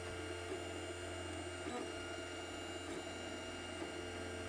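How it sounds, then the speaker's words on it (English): An EasyThreed DORA 3D printer runs quietly during a print, giving a faint, steady electrical hum with soft motor whirs and small mechanical ticks over about four seconds. "you have to see how silent this printer is"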